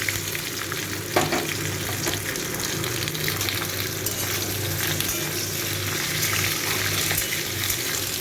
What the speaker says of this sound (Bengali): এই কুতরিগুলোকেও একটু ভালো করে ভেজে নেব।